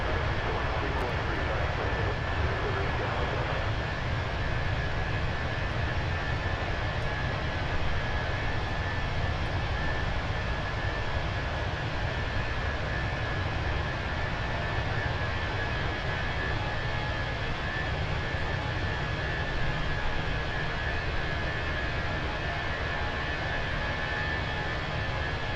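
Inside an Airbus A321 airliner on approach, cabin noise forms a constant broad roar of engines and airflow with a faint steady tone, unchanging and fairly loud throughout.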